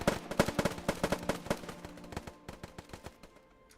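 Heavy gunfire in a video game battle, rapid bursts of automatic shots with sharp repeated cracks and some distant booms, gradually thinning out and fading toward the end, with no voices over it.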